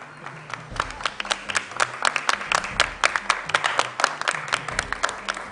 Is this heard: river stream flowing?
no